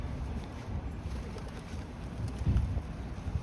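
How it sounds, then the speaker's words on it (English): Pigeons scuffle on a neighbourhood street, with low fluttering wingbeats and scraping that swell briefly in a gusty, noisy outdoor setting. "What on earth is going on here with all those pigeons?"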